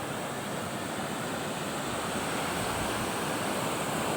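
Big ocean waves surge onto the shore in a continuous, loud roar of surf, a steady broadband wash with wind noise buffeting the microphone and no voices.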